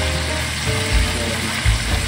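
Steady, crackling sizzle of an egg mixture frying in a hot pan for chicken cordon bleu, continuous and close, with a few soft low bumps like utensil movement.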